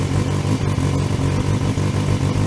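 A Suzuki GSX250S Katana motorcycle engine runs steadily nearby, a loud continuous throbbing rumble with no pauses.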